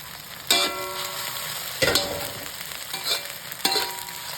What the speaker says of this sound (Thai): จากนั้นเราก็ใส่ดอกขจรลงไปเลย